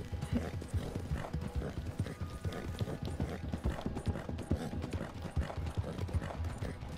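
A horse in Red Dead Redemption 2 gallops, its hooves pounding in a fast, steady rhythm, close and continuous with no voices.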